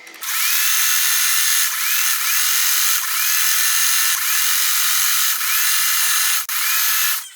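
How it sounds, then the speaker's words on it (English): A sewing machine stitches down a scrappy quilt block, its motor a steady, close, high whir broken by several brief stutters and one short pause near the end. "I'm just going to sew all the way down."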